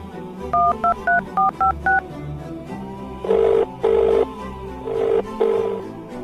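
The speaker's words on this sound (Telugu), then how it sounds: "ఇప్పుడు ఫోన్ చేస్తున్నారు" Someone places a phone call: six quick touch-tone dialing beeps come first, then four longer ringback tones with short gaps between them, all clear and close, with no talking.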